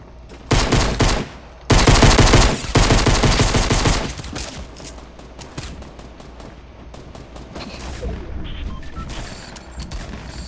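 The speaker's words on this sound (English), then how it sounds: "Alright, well, shotgun versus pistol." Rapid bursts of shotgun and pistol fire in a Fortnite match: a dense volley at the start, a second heavy barrage, then scattered sharper shots and clatter trailing off, loud and close with no talk over it.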